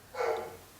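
A single short bark from a dog, moderately close, standing alone against a quiet background.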